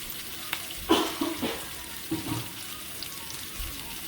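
Okra tossed into hot oil with softened onions in a pan, giving a quiet, close sizzle with a few soft stirring scrapes and clatters, with no talking.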